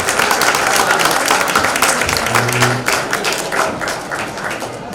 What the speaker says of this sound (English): A round of hands for everybody, a round of applause.